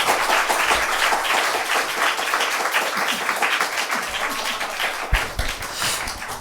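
A church congregation at a Sunday afternoon service claps for several seconds after a presentation, a thick, sustained wash of hands that stays loud throughout with no voices on top.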